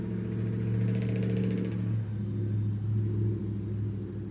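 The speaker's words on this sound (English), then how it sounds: "just wanted to wait for that truck to leave. Absurdly loud." A loud truck engine rumbles close by with a steady low drone, its sound thinning after a couple of seconds as it moves off while the rumble lingers.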